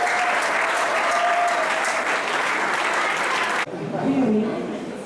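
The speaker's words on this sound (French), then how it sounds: "Applaudissez s'il vous plaît, mesdames et messieurs." Applause from an audience at an event fills the room steadily for several seconds, then cuts off abruptly and gives way to quieter room noise with a faint voice and a brief tonal sound.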